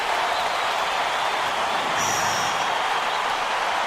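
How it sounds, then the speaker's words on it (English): A College Basketball 2K8 arena crowd roars in a steady, dense wash of cheering that holds at full volume throughout, with no pause or break. "This crowd is going insane. I love the energy of this building."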